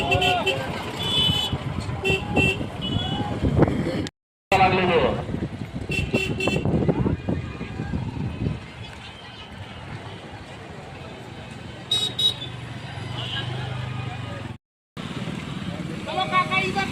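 Vehicles honk in short toots and longer blasts over engine and motorcycle noise at the crowded first day of the Shivratri fair at Pratapgad in Gondia district, with people talking loudly nearby.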